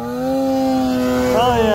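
A snowmobile engine at full throttle while stuck in deep snow, a steady loud droning whine that rises in pitch near the end, running alone close by.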